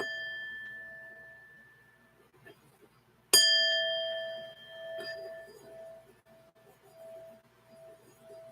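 A small bell rung for a sound cleansing gives a clear ringing tone that slowly fades, then a second bright strike rings out loudly and decays over several seconds in a quiet room.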